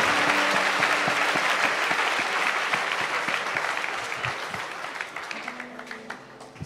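A church congregation applauding the Lord during a worship service, a dense, sustained wash of clapping that swells and then gradually thins toward the end, with a few voices underneath.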